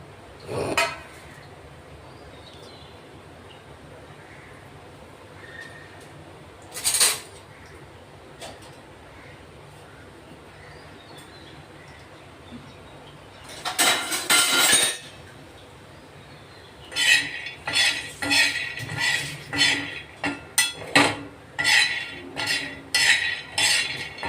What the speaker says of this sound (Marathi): तर शेंगदाणे भाजून घेऊ आधी